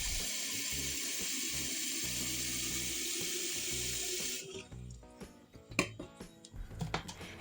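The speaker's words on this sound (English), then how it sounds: "Pour the mixture into the thermos" Hot water mixed with vinegar pours into a thermos, a steady loud rush of running liquid for several seconds that stops abruptly, followed by faint clinks and handling noises.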